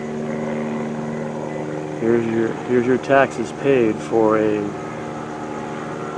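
A Los Angeles Police Department helicopter flying overhead gives a steady droning hum across the whole clip, while someone talks briefly in the middle.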